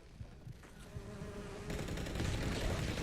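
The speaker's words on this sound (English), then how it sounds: "It's the bees." A dense swarm of bees buzzing in the Fallout 76 video game, a steady droning hum that swells louder and fuller partway through and keeps building.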